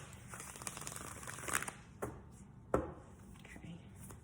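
Tarot cards being shuffled, heard as soft, close riffling and papery rustles with a few sharper snaps and taps.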